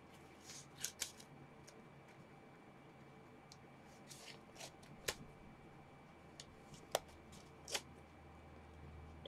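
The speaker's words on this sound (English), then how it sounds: "My scissors out again." Scissors cut open a greeting card envelope from a Valentine card swap, giving several quiet, sharp snips spread over a soft rustling background with no talk.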